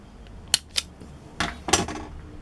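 Snips cut through a solar garden light's wire, giving a few sharp, close clicks spaced apart over a couple of seconds against quiet background.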